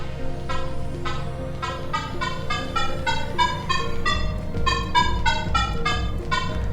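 A Nokta Makro Legend metal detector set to its lowest-pitch tone gives a series of short, evenly spaced electronic beeps that speed up toward the end, heard alone over a steady low background hum.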